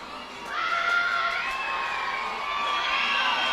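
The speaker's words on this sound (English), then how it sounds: "the crowd cheering him on here as he takes a swinging strike" Crowd cheering at a minor-league baseball game between Binghamton and Reading, a sustained wash of shouts and high whoops from many fans that swells and holds steady.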